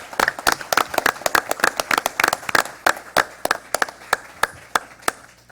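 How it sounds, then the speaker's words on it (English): A round of applause for sheriff's deputies and posse members at a town council meeting, with sharp, fairly sparse hand claps from a modest crowd that thin out toward the end. "join me in giving an unbelievable round of applause to the phenomenal deputies and posse members who are here tonight"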